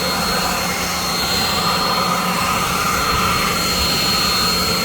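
A cordless 40V Alloyman leaf blower with dual batteries blasts continuously, giving a loud turbine-like rushing roar with a thin high whine, steady and near, with no talking over it.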